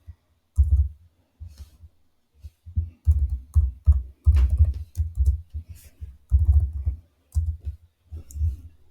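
Close keystrokes on a computer keyboard, typed in short irregular bursts of firm clicks with brief pauses between, and no talking.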